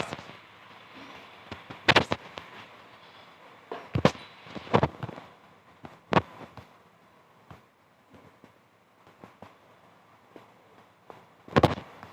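Gunfire in an offline shooting video game: sharp bursts of shots at about two-second intervals, loudest near the start and end, with quieter pops between and no talking.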